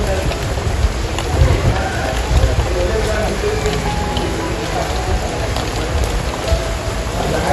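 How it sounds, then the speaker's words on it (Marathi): Heavy rain at Raigad Fort falls in a dense, even hiss, with a low rumbling underneath and voices faintly mixed in. "पाऊस आहे, पावसातनं जायचं आहे"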